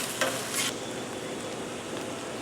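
Mushrooms cook down in a hot pan with a steady, close sizzle, broken near the start by a couple of brief stirring scrapes, with no talking.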